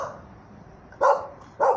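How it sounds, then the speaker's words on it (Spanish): A dog gives two short barks about half a second apart, fairly close, over quiet outdoor background. "y un perro, Coco, que quiere formar parte de este video"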